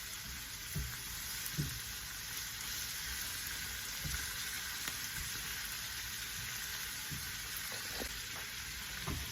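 Plantain and vegetables cooking in a pan on the lowest heat, giving a quiet steady sizzle with scattered soft pops and light clicks throughout, no talking.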